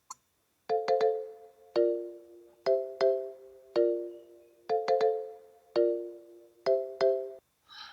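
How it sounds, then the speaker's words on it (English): A Korg Triton synthesizer's marimba voice plays a bright rhythmic pattern of short mallet-like notes, mostly paired hits with sustained decays, clear and alone. "This marimba sound was from Cork Tritone ESP Marimba"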